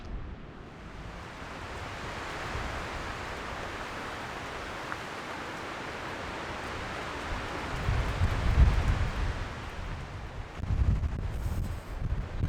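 Wind blows at Cape Meares on the Oregon coast, a steady broadband rush buffeting the microphone with low rumbling gusts swelling near the end, and no voices.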